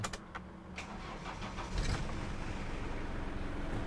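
A manual car's engine cranks and catches after a battery jump-start from another car, with a brief starter whir, then a firm rise into a steady, close, unbroken idle rumble and no talk.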